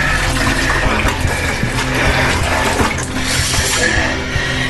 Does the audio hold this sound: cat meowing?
no